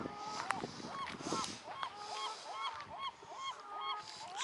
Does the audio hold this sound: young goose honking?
yes